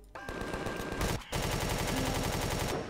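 Rapid automatic gunfire from a weapon in the sci-fi survival game Empyrion Galactic Survival, set in an abandoned factory: loud, dense bursts that break off for a moment and then resume steadily.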